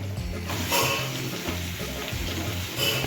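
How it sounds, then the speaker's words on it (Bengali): Ground cumin, chili powder and ginger paste sauté in hot oil for a Bengali vegetarian papaya curry, giving a steady, close sizzle with a low hum underneath and no talking. "এবার ভালো করে কষিয়ে নেব।"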